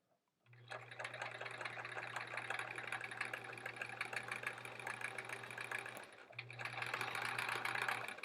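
Sewing machine stitching quilt blocks, a steady close mechanical whir with fast rhythmic needle ticking that pauses briefly, then resumes a little louder.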